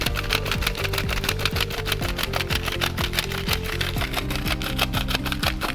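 Photographic film being wound onto a developing reel spool gives a loud, rapid run of evenly spaced ratcheting clicks, close up and continuous throughout, with no voices.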